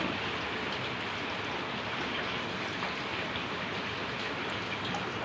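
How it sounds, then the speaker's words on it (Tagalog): Steady, dense rain pours continuously with a full hiss and constant patter, with runoff from a gutter, loud and unbroken throughout. "May copyright kaya ang tunog ng ulan."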